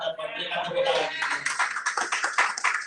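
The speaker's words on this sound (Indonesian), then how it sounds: "Berikan tepuk tangan." A church congregation applauds, a dense burst of clapping that builds and carries on, with a voice heard under it at the start.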